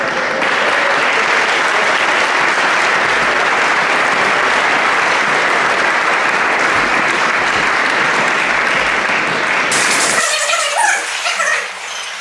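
An audience cheers and applauds loudly and steadily for a choir at a concert, a dense wash of clapping and cheering that fades out near the end.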